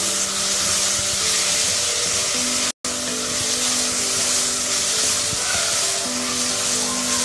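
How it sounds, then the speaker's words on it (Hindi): Onions fry in hot oil in a dhaba-style daal mash pan, giving a steady, loud, continuous sizzle with a brief cut partway through. "और अब इस ऑयल में हम प्याज डाल देंगे। हम प्याज को फ्राई करेंगे।"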